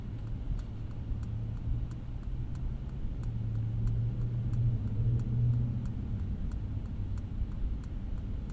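A 2021 Mercedes-Benz S500 pulling away under acceleration as its engine refires, a low muffled drone that swells in the middle from inside the cabin, with a regular faint ticking running throughout.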